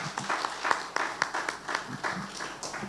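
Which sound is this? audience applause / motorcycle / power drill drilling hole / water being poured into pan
audience applause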